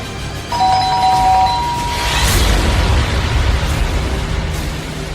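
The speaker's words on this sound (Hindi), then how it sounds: "दरवाजे की घंटी फिर से बजी।" A two-tone electronic doorbell chime rings once in a horror story drama, followed by a heavy low rumbling wash of noise that swells and lingers.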